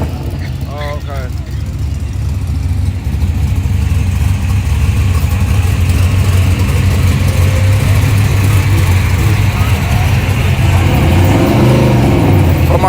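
A Chevrolet S10 truck on a drag strip, its engine droning and building in revs across the run while someone talks over it.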